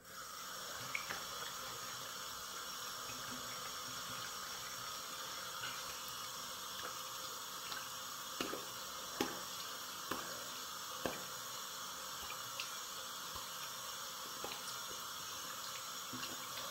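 Tap water running steadily into a sink while a face is rinsed, a faint continuous hiss with occasional soft splashes.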